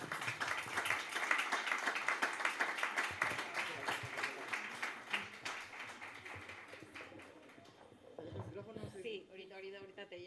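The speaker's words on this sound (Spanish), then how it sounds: "Un aplauso más fuerte, por favor." An audience claps after a talk on emotions and the gut, a dense patter of applause that builds, then thins and fades out, with a voice speaking near the end.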